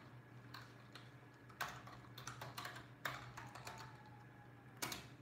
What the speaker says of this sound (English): So, I'm gonna type some text on the screen.